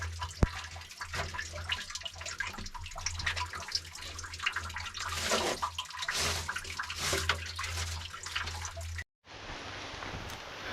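Steady rain falls outdoors as a continuous close hiss with scattered drips and splashes, cutting out briefly near the end before resuming.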